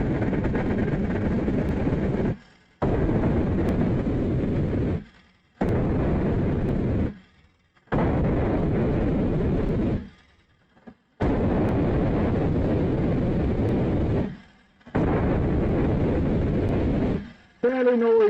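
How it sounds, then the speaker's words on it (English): A wood lathe turning a bowl from a log, the gouge cutting shavings with a loud, rough, continuous roar broken by short pauses between passes. "So you can already hear and see that you're starting to get proper shavings as you come round the corner."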